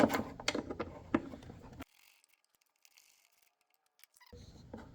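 Two 5.5 mm bolts being undone from a car's air intake, heard as quick close ratchet clicks and metallic taps at the start, then near silence before faint handling noises return.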